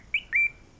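Two short, bright electronic chirps in quick succession, the second slightly longer, crisp and clean against near silence: a Nintendo Switch Lite menu animation sound.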